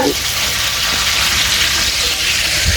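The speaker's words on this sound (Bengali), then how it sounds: "এবার পোলাও রান্না করার জন্য যে পেঁয়াজ দিয়ে দিচ্ছে" Loud, dense sizzle of onions dropped into hot oil in a large pot for a pulao cooked in bulk from 13.5 kg of rice, steady and close throughout with a watery hiss.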